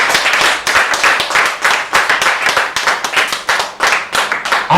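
A church congregation claps together in a steady, brisk rhythm, a loud, close burst of many hands applauding for several seconds with little else over it.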